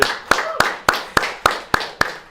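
A school audience breaks into applause for the longtime Wildcat announcer, the clapping heard as a run of sharp, evenly spaced claps roughly every third of a second, each ringing out in a reverberant room.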